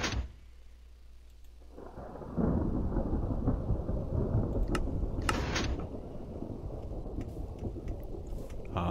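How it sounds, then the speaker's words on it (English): Thunder in Minecraft begins as a low rumble, then breaks into a loud, sustained rolling crash lasting several seconds with rain-like hiss, sharp cracks and a steady low roar. No one speaks. "So, that made thunder."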